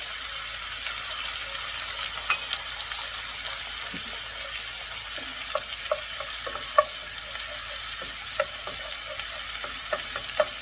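Beaten egg frying in a wok for chicken fried rice, a constant hissing sizzle with scattered clinks and scrapes of stirring, close and steady with no speech.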